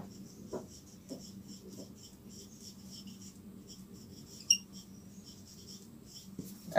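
Pen or pencil scratching across paper while a maths solution is written out, with a few short strokes and taps standing out over a quiet, steady background hum.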